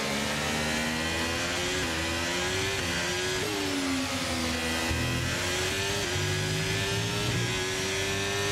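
Racing car engine in the F1 23 video game, a continuous high whine with harmonics that rise and dip through gear changes and throttle shifts, steady and loud throughout.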